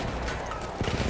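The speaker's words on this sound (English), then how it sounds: "Machine gun!" Machine gun fire in the shooter game Frontlines, a dense, rapid rattle of shots that swells near the end of a brief burst amid battle noise.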